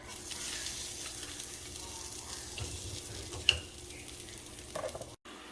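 An onion mixture sizzles in hot oil in a pan, a steady close frying hiss with a sharp clink of utensil against the pan midway and a brief cut to silence near the end.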